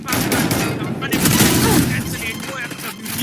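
Gunfire from a Valorant tournament match: a loud, continuous stream of rapid shots and bursts layered together, with a commentator talking over it.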